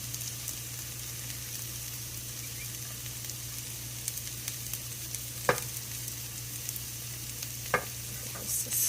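Onion stir-frying with beef and vegetables in a pan, a constant close sizzle and crackle with an occasional utensil scrape against the pan.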